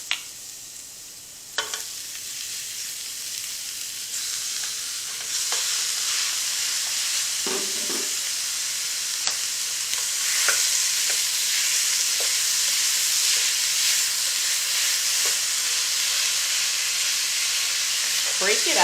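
Ground beef browns in a pan for gluten-free chili, a steady close sizzle and hiss that grows slightly louder, with occasional scrapes and knocks of a utensil breaking up the meat.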